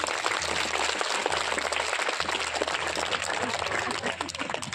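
Students in a school audience applaud during a state disaster response force demonstration, steady dense clapping sustained throughout with a low rhythmic hum beneath.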